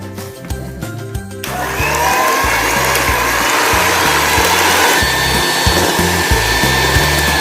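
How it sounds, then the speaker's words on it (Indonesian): An electric hand mixer whirs loud and steady as it beats four whole eggs for telur gabus, a traditional snack, starting after a brief lead-in of clattering and continuing without talk. "Di mixer."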